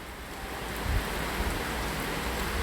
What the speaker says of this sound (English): It's getting, the rain's blowing in me.